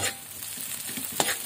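Onion, ginger and garlic sauté in a hot pan for sisig, giving a soft continuous sizzle broken by a few quiet scrapes of stirring, with no talking.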